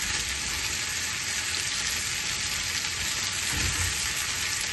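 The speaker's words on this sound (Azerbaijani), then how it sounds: "Biberlərimizi də burada qəşəng qovurum." Peppers frying in a hot saj pan, giving a steady, close, even sizzle with a faint stir near the end and no talk.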